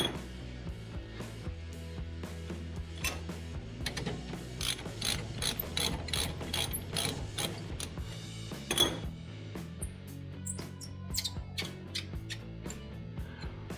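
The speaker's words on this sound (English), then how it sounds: "we'll just undo this bottom caliper slide bolt" A wrench ratchets on the lower rear brake caliper slide bolt of a Land Rover Discovery 3 2.7 TDV6, giving quick runs of close metallic clicks that come in uneven bursts.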